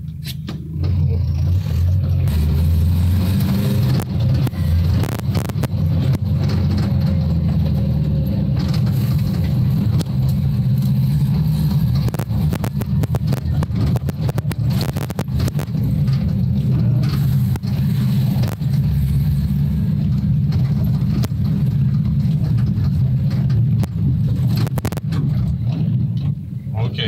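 A Suzuki Samurai fitted with larger wheels drives along, its engine running as a steady loud drone with road rumble and some scraping, and someone talks over it.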